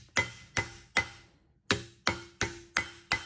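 A hammer strikes sheet metal being folded over into a handle, seven sharp metallic blows in a steady rhythm with one brief pause, close and crisp.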